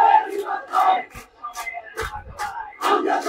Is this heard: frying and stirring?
no